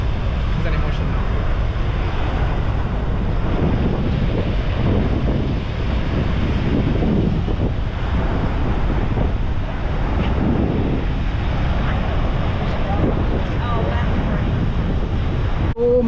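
Niagara Falls roars on a Maid of the Mist boat tour: a constant heavy wash of falling water, loud and near, with steady wind buffeting the microphone and no clear voices.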